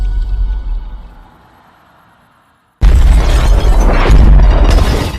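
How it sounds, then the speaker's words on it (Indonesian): A deep rumbling tail fades to near silence, then a sudden loud blast erupts at an undersea oil drilling station and roars on, broad and dense, until the end. "terjadi ledakan yang hampir menghancurkan seluruh area stasiun di tempat itu"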